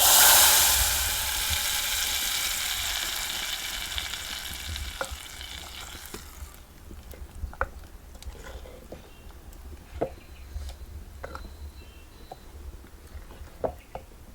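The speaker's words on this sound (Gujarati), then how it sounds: "અને હવે નાખી દઈએ આમાં આપણે દાળમાં તડકા" A tadka of hot tempering oil and spices is tipped into cooked urad dal, starting with a loud burst of sizzling that fades to a softer crackle with spoon stirring and scattered clicks, close up and without talk.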